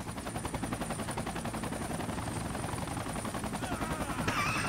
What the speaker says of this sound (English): Because he's firing again.